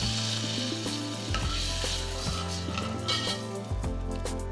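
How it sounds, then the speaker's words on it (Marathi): Water poured into a hot pan of sautéed ingredients with turmeric, bursting into a steady loud sizzle and frying hiss close by, with a faint clink of the pan and stirring throughout. "3 ग्लास पाणी घालतो।"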